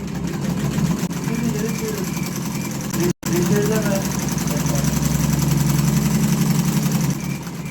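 A weaving loom's motor running in a Buldan textile workshop, giving a steady, close mechanical whir with a fast repetitive clatter and one brief cutoff midway, with voices talking over it.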